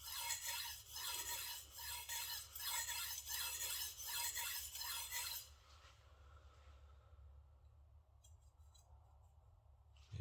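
A knife blade drawn repeatedly across a sharpening stone to raise a burr, making rhythmic rasping strokes about once every half second for several seconds before stopping, followed by faint handling sounds in quiet.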